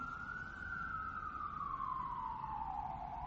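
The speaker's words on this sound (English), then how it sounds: "the soundscape of New York. Sirens. Every fucking 5 seconds." A single wailing siren in New York City slowly falling in pitch, steady and somewhat distant, over a constant low rumble of traffic.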